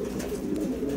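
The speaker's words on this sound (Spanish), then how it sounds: "mira cómo está esa paloma hembra" A female pigeon of a named breed coos in a low, steady, throaty rumble close by, continuous through the brief moment with no talk.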